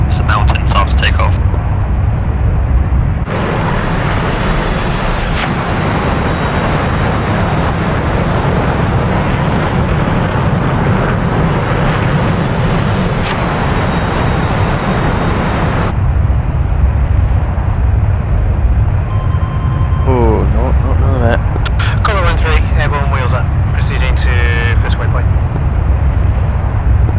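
Jet taking off on afterburner in the flight game DCS World, a loud sustained roar filling the whole stretch under game radio chatter and talk, with brief changes in tone partway through.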